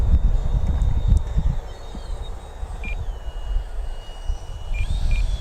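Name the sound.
FMS Viper 70mm electric ducted fan RC jet flying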